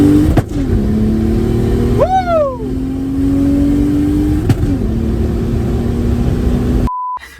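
A Mercedes C180 with a turbocharged M104 engine accelerates hard on a test drive, engine note rising steeply through revs with a sharp shift around two seconds, then holding a steady strained drone until the sound cuts off near the end.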